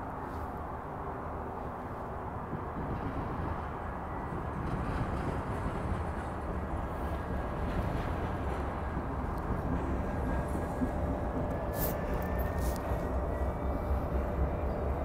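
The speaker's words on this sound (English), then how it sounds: "this is a small grain train already carrying two cars over there" A distant Union Pacific grain freight train engine drones low and steady in snow near Fernley, Nevada, slowly growing a little louder as it pulls away, with faint high squeals of wheels.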